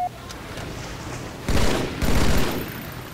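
Gunfire in a Halo-style capture-the-flag match on the Sanctuary map, with two loud bursts of shots over a steady game background hum.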